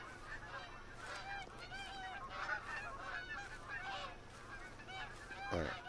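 A flock of geese in the Call of the Wild hunting game honks repeatedly, with many overlapping calls sounding at a moderate distance over steady ambient wind noise and a brief thud near the end.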